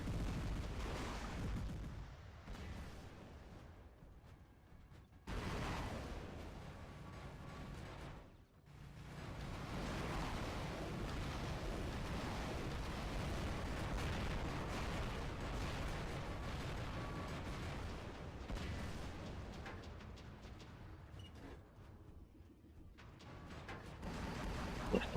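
Robots trading heavy fire in the War Robots video game, a dense continuous barrage of booming blasts and explosions with brief lulls, loud throughout the stretch.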